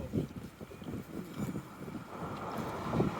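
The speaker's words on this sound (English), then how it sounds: "Very windy in here too." Gusty wind buffets the microphone while walking outdoors through Halifax near Dalhousie campus, a steady low rumble with rising surges, loudest near the end, and no talk.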